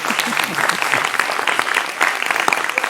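A studio audience claps steadily and loudly for about three seconds during a Hindi interview about the Maha Kumbh, a dense, even roar of many hands with no pauses.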